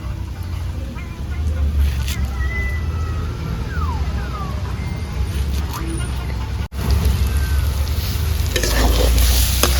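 Turmeric, salt and spices stir-frying in a pan for a Bengali crab curry, with steady scraping and stirring over a constant sizzle throughout, close and fairly loud.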